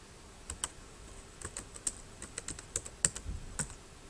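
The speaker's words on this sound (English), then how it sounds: "I'm going to start typing in this box here, and watch what happens when I start typing." Someone types on a computer keyboard into a search box, producing irregular, close, crisp key clicks in short bursts with brief pauses between them, no talking.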